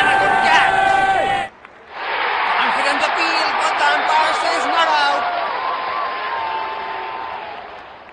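A T20 World Cup cricket crowd cheers and applauds in a broad, sustained roar that swells and slowly fades, heard under a commentator's voice.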